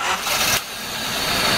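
Honda Domani with a D15B engine trying to start under low fuel pressure, a loud close cranking rush that drops briefly and then holds a steady roar.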